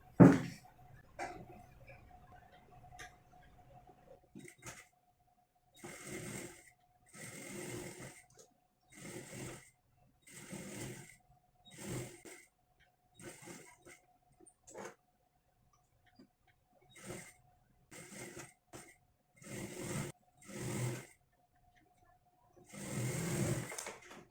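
A sewing machine stitches a princess-cut blouse in repeated short runs, a close, rhythmic clatter that starts and stops with quiet pauses between bursts.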